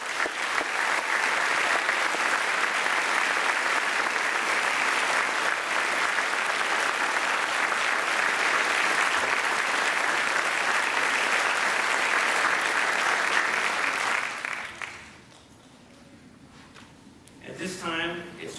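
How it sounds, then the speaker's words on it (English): Loud, steady applause from the audience at a fire department lieutenant promotional ceremony in Akron carries on for about fifteen seconds, then fades out as a speaker begins talking. "join me in a round of applause for Chief."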